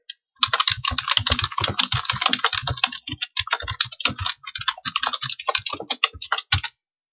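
Rapid typing of programming code on a computer keyboard, a dense run of close, crisp key clicks with a short pause midway, no voices.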